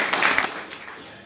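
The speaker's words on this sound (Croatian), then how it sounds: "Molim jedan pljesak za svih." Audience applause at a Christmas and New Year concert, a short burst of clapping that swells briefly and then fades over a little more than a second.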